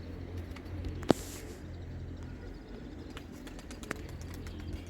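Tumbler pigeons on a rooftop loft in Kocaeli give soft, faint coos and rustles over a quiet background, with one sharp click or wing snap early on and another smaller one later.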